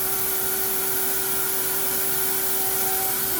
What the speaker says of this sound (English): Why is it that always these vacuums have no suction?